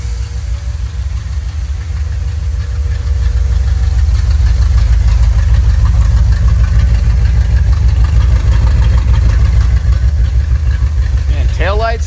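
A 1978 GMC Jimmy engine running steadily, a loud, close, rumbling idle with a constant low throb that grows slightly fuller after the first few seconds, with a brief rising squeal at the very end.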